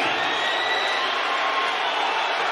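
Boxing arena crowd at a hometown fight roars steadily, a dense wash of cheering and shouting held at constant loudness with no breaks.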